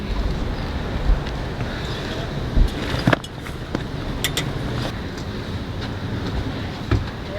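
Steady low rumble of an Amtrak passenger train departing, heard from a Viewliner II sleeper car, with a few sharp clanks and squeaks from the cars and some wind noise on the microphone.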